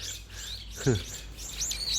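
Small birds chirp and tweet on a wide rooftop terrace, with repeated short high calls throughout, fairly close and clear against a low steady background hum.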